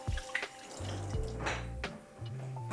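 Water runs from a kitchen faucet with a boiling-water feature in a compact Paris apartment: a few sharp splashes or clunks at first, then a steady stream with a low hum and small drips, nearby, with no speech.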